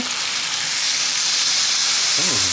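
Pork seasoned with miso and BBQ spice sizzles steadily on a grill, a loud, continuous frying hiss, with a brief voice cutting in near the end.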